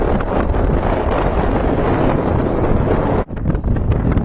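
Steady, loud wind at a micro-jig fishing spot buffets the microphone with a low roar throughout, briefly dropping off near the end before gusting back.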